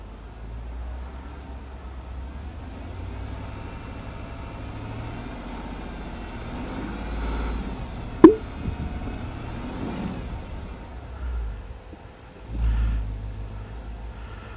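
A Land Rover engine with its intake removed rumbles low and fairly faint, swelling briefly as the throttle is pressed, with a sharp clank partway through.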